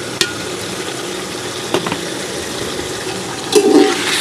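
Meat sizzles gently in a pot with tamarind and dried plums as it is stirred, with soft scraping clatters at intervals and a brief louder stir near the end.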